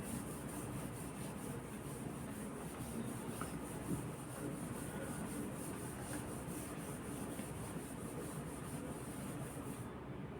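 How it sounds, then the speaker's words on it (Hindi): Writing is rubbed off a classroom board with a continuous dry scrubbing and rubbing sound, steady and close throughout, with no speech over it. "मैं इसको रब कर रहा हूं"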